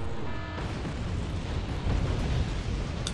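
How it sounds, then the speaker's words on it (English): Tanks being destroyed in the game Wargame Red Dragon, heard as a dense, continuous rumble of explosions and booms with a stronger burst near the middle, with no talking. "2 tanks have been destroyed."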